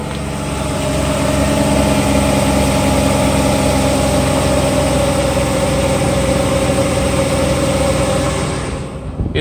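A Mercedes SL600 idles close by after starting, a loud, steady engine drone with constant low rumble and a faint transmission whine, holding even before easing off slightly at the end; no talk.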